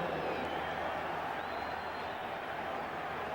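A Cleveland Browns stadium crowd in a 2000 NFL game roars steadily after a touchdown, a dense, distant, sustained wash of cheering with faint commentary mixed in.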